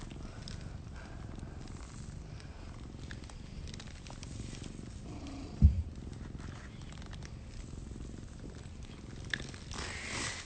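An old house cat purrs softly and continuously in a quiet indoor room, a low steady rumble with one brief louder bump midway.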